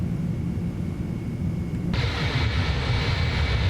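Airbus A310 jet engines in Microsoft Flight Simulator 2020 roar steadily on a takeoff roll, and the noise swells partway through into a brighter, louder rush. Nobody speaks.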